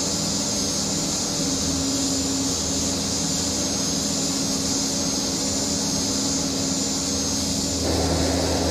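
Twin turboprop engines of a Mitsubishi MU-2 roar steadily in reverse thrust in the X-Plane 11 flight simulator, a loud, dense, continuous drone that swells slightly near the end.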